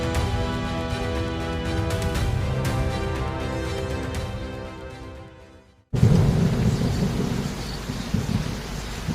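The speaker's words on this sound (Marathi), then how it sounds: "माथ्यावर असताना पावसाने हजेरी लावली" At Mangad fort, music plays and fades out before a loud burst of rain and rolling thunder takes over, the storm close and heavy for the rest of the clip.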